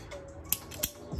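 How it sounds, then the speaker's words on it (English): Scissors snipping braided hose for a BMW N63 catch can install on an F10 550i, a few short, quiet crisp cuts in close succession. "Cutting the braided hose and getting a nice"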